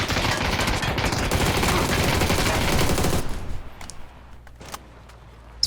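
Rapid automatic gunfire in PUBG, a sustained loud burst of shots lasting about three seconds, then quiet with a few faint clicks and a final thump.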